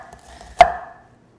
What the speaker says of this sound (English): Just thinly slice the onion.